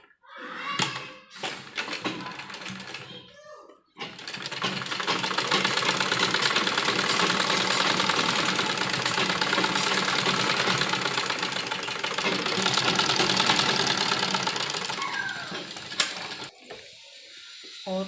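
A sewing machine stitching along the folded edge of a young girl's umbrella frock, a loud steady mechanical run lasting most of the stretch, with handling clatter before it starts and after it stops.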